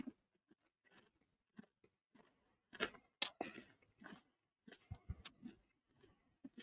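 Lay's dill pickle potato chips being bitten and chewed: scattered crisp crunches, a loud cluster in the middle and another burst near the end, close to the microphone with quiet gaps between.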